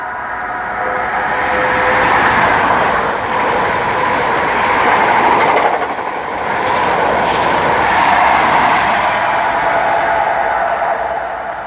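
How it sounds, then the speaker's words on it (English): An HST passenger train led by Class 43 power cars runs past at Starcross on the Devon coast, heading from Paignton to London Paddington. A loud, steady rumble and roar of engines and wheels swells and holds for the whole passage, with no talk. "We've now got it passing HST from Paignton to London Paddington."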